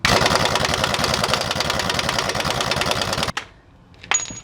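Rapid rattling of an impact wrench backing out 17 mm bolts on coilovers of a Nissan Altima with an SE-R engine swap, loud and continuous for over three seconds, then stopping, followed by a brief clink and a short whir.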